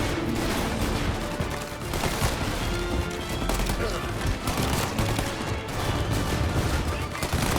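Gunfire in a Mafia video game, dense overlapping shots and bursts that run continuously at close range, mixed with game noise and speech throughout.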